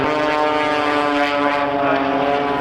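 A propeller aircraft makes a very slow landing at Matamata Airfield during an air show, its steady engine drone and harmonic hum sustained and fairly close throughout.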